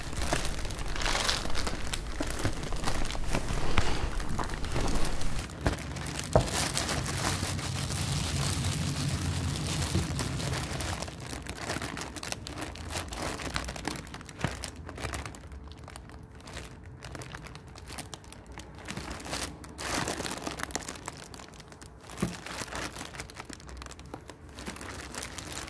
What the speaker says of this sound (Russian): надавливая на пакет, искусственно изменяем давление воздуха внутри пакета